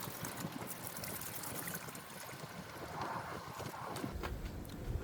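Water rinsing spilled coolant out of the engine bay of a 2016 Toyota RAV4 during a water pump replacement, a faint steady trickle and splash with light spattering, no talk.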